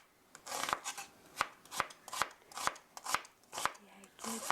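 A knife slices a vegetable into thin 0.2 cm julienne strips on a cutting board for curry noodles, giving about ten evenly spaced crisp taps close by, each with a faint papery rustle, alone without talk.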